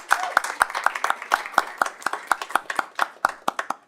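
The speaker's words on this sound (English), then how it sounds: "Let's give them a round of applause." A small audience claps at a public school board trustees' meeting, the sharp individual claps standing out in a loose, fairly quick rhythm, close and distinct rather than a dense roar.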